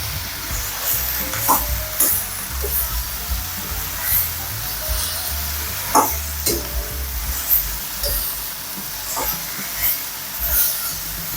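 Thinly sliced ingredients sautéing in a wok, a continuous hiss and sizzle with occasional scrapes and taps of a utensil against the pan, heard alone without talk.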